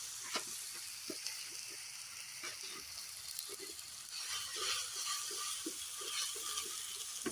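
Ginger garlic paste frying in a clay pot gives a steady, fairly faint sizzle with scattered soft stirring clicks and scrapes throughout, no voices.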